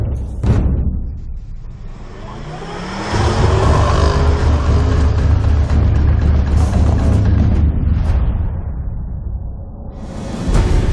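A Range Rover Sport plug-in hybrid on off-road tyres climbing sharp steps, its engine surging loudly and holding a strained roar for several seconds before easing off, with a knock or thump near the end.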